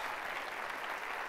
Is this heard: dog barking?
no